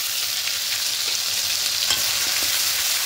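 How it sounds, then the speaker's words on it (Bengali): Ginger and green chili paste with cardamom, cinnamon and cloves fries in a pan with a constant loud sizzle, and a spoon stirs through it in a few soft scrapes. "খুব ভালো করে মিশিয়ে নেব।"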